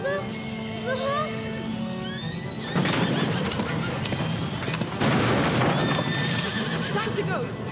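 A horse neighs and whinnies loudly over a tense soundtrack in the video game A Plague Tale: Innocence, followed by hoofbeats and crashing action sounds.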